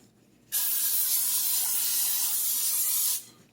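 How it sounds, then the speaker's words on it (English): A single continuous hiss of an extra virgin olive oil aerosol cooking spray, starting abruptly and lasting about three seconds before cutting off, close and fairly loud. "I'm going to spray some of my extra virgin olive oil spray."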